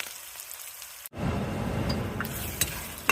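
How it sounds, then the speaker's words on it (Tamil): Beaten eggs hit hot oil over fried onions in a pan for egg fried rice, setting off a sudden loud sizzle that holds steady after a brief quiet moment, with a few light clinks. "இப்போ வெங்காயம் வதங்கிடுச்சு. இப்போ கொஞ்சம் முட்டை உடச்சி ஊற்றிக்கலாம்."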